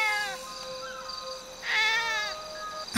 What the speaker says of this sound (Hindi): वहाँ पर तो बिल्ली थी